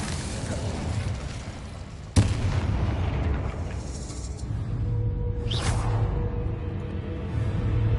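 Incendio fire spell cast in Hogwarts Legacy, heard as a sudden loud bursting boom followed by sustained roaring fiery rumble amid game combat noise, with a later whooshing sweep.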